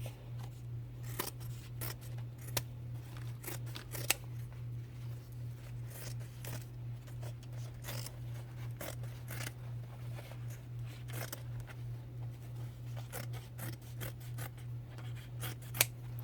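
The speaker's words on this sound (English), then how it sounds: "I'm just going to cut this seam off" Scissors snipping through a thick denim seam, a steady series of crisp close cuts at an uneven rhythm over a constant low hum, with no talking.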